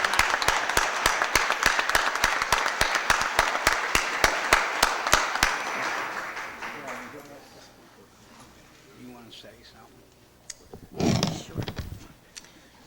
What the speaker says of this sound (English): Let's give her a big round of applause and congratulations on the job well done.